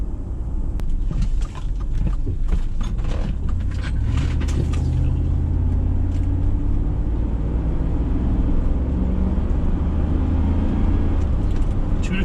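A Chevrolet Tahoe with a newly installed transmission drives along, its engine and road noise a steady loud drone from inside the cabin, with a light rattle early on.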